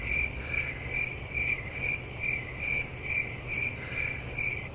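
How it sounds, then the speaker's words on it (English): Crickets chirping on a summer night, a steady pulsing trill repeating about twice per second, moderately close and alone without talk. "I don't know if you guys can hear this with the camera, those crickets in the background."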